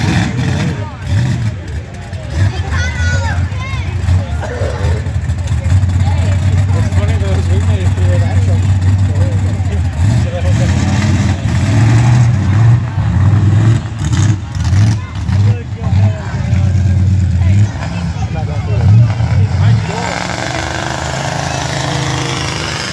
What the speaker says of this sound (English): There's a green mega truck over there.